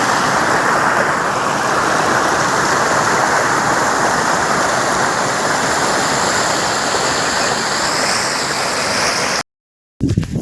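Water rushes steadily along a village creek beside farm fields, a loud, continuous broadband flow close by that cuts out abruptly near the end.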